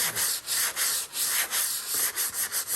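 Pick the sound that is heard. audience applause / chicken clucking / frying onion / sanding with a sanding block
sanding with a sanding block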